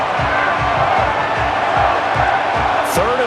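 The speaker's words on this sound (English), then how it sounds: "this crowd urging on their defense. They're up and making noise" A video-game football stadium crowd in Madden 25 roars steadily as fans urge on the home defense late in the game, a loud continuous wash of cheering with a commentator talking over it throughout.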